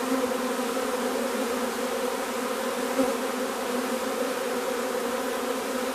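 Swarming honeybees fly around their hive in a continuous, even buzzing hum, loud and near, with no voices over it.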